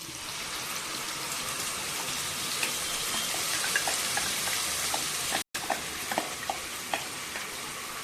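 Masala frying and stirred in a curry pan for Karnataka-style egg curry, a steady loud sizzle with scattered small pops and spoon taps, broken by one brief cut.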